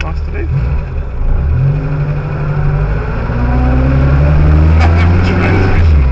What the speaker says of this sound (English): Transmission whine.